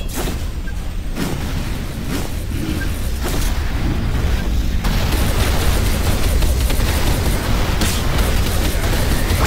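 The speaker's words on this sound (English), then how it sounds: "Grenade!" Grenade blast in the Enemy Territory Quake Wars video game, heard amid a constant roar of loud battle noise with repeated booms and bursts of gunfire throughout, no voices.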